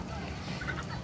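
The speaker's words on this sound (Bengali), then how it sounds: "এই হলো আমার হাঁস মুরগিগুলো খাইতেছে" Ducks and chickens feeding together on a rooftop, giving soft, faint clucks and poultry calls over a steady low background hum. The sounds continue throughout.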